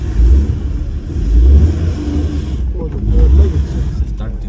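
A car engine revs in repeated surges while the vehicle is stuck in snow, loud low rumbles swelling and fading a few times with people talking over it throughout.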